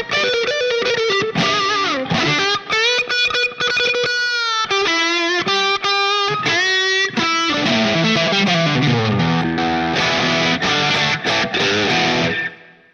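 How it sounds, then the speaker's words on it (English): An electric guitar plays through a modeled Marshall JTM-45 tube amp on a Line 6 Pod HD500 with the gain raised. It is loud and overdriven, with fast riffs, bends and sustained chords running continuously for about thirteen seconds. "Turn that gain up a little bit, man. We want some growl in there."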